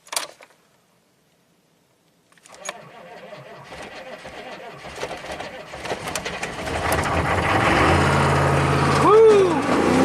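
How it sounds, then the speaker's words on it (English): A Chevy 6.5 turbo diesel is cranked and catches, building from a short click and silence into loud, rising engine roar that swells to a revving, uneven run. Voices are heard over it. "Okay, crank no start."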